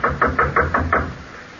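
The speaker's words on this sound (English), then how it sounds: "Knock on the door, Abner." Six firm knocks rap on a door in quick, evenly spaced succession, close and loud, then stop.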